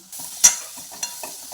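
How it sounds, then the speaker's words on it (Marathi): Rajma sautéing in a pan with a spoonful of salt: a few brief scraping stirs against the pan over a faint, quiet sizzle, close by with no voices. "हे पण छान परतलेलं आहे याच्यामध्ये मी एक चमचे मीठ टाकलेलं आहे"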